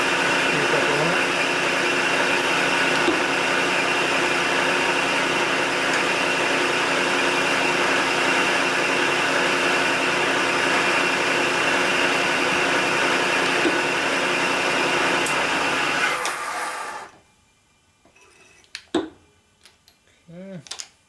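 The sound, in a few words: drilling oil line feed hole in Harley cam cover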